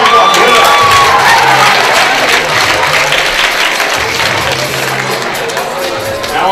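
Loud applause and cheering from a school pageant crowd, with shouts and whoops rising over the clapping before it gradually eases off; a few voices call out within it.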